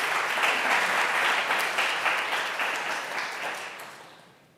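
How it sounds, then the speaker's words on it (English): A room full of honors conference attendees applauds a student presenter, the clapping dense at first and then gradually tapering off toward silence. "let's give Keegan a round of applause before he starts"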